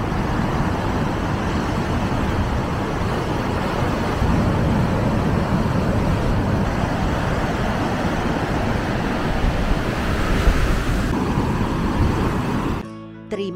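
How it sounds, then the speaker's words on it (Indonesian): Steady broadband roar of surf rolling onto Batu Belig Beach near Kerobokan, Bali, continuous and fairly loud throughout with no voices, ending in a brief cutoff. "Ini pantainya."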